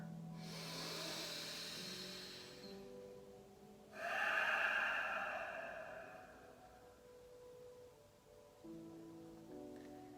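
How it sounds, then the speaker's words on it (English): A slow, deep breath drawn in and let out during a guided meditation, soft and airy over a faint musical drone, two long hissing swells with no talking. "the bright open space that becomes available as we take another deep breath into your core"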